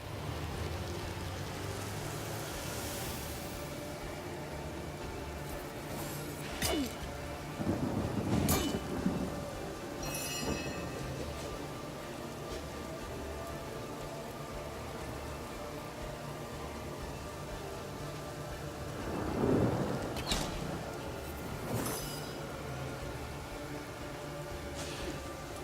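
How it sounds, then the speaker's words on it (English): Rain and thunder from a spell cast in the video game Divinity: Original Sin: a steady patter of rainfall with two low rolling thunder rumbles, moderately quiet and without talk. "Cause more rain."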